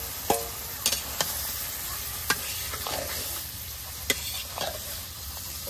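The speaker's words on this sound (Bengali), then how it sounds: "মশলাটারে খুব ভালোভাবে কষে নিব।" Masala paste fried and stirred in a pan in a village kitchen, a continuous sizzle broken by sharp spatula clacks and scrapes against the pan.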